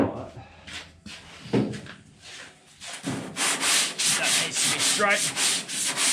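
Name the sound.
block sanding body filler on car bodywork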